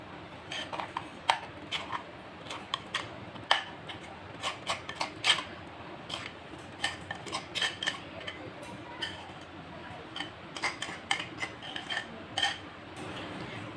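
Metal utensils clink and scrape against a dish while spice paste is mixed over raw chicken for a roast, with irregular close, light taps and rubs and no voice.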